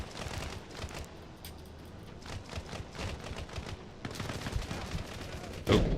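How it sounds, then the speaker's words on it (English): Gunfire in the military game Arma Reforger crackles in scattered rapid bursts and volleys, fairly distant and uneven, with a louder, closer shot at the very end. "Where are they shooting from?"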